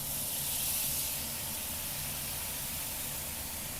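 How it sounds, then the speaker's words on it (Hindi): Tomato paste hits browned onions in a hot pan, giving a loud, steady hiss and sizzle that holds evenly throughout, close up with no talking. "अब इसमें हम डाल लेते हैं टमाटर का पेस्ट"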